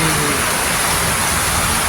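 Steady rain pours down over farmland after a long hot dry spell, a continuous dense hiss of drops hitting the ground close by, with no voices.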